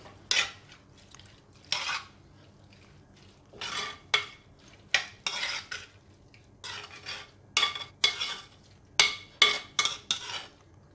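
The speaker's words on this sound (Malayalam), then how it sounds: "എല്ലാം കൂടെ നന്നായിട്ട് മിക്സാക്കി കൊടുക്കാം" A spoon scrapes and clinks in a pan while squid thoran is stirred with spices, Kerala style, in a series of short, close metallic scrapes and taps with quiet gaps between them.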